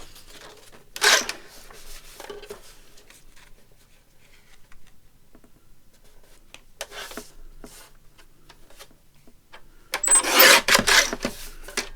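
Paper for a scrapbook-style lapbook page is trimmed in short bursts of crisp scraping and cutting, with quiet pauses between them and a longer, louder run of cutting near the end.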